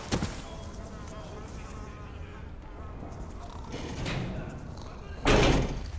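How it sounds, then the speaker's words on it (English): Flies buzz around a trash bin in the Metal Gear Solid 4 video game. The buzz is faint and steady, with a loud door-like slam near the end and speech over it. "Flies are buzzing around."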